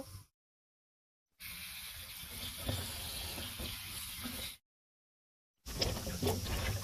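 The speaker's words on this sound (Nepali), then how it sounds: "अब यसलाई चाहिँ म राम्रोसँग पानीमा धुन्छु" Running water gushes steadily as daure vegetable is washed, a continuous tap-like hiss broken by short silent gaps.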